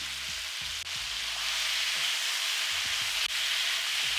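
Pineapple chunks frying in a pan for sweet and sour chicken, a steady close sizzle with low scraping stirs now and then and no talk.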